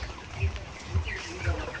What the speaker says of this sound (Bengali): সামনে একটা সাদা মুরগির ব্যাস এটা একটা লাল মুরগির ব্যাস